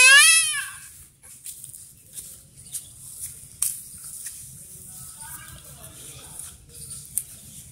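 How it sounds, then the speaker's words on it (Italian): A single wavering goat bleat rings out at the start, then quiet rustling and soft clicks follow with faint low murmuring underneath. "Come fa la capra?"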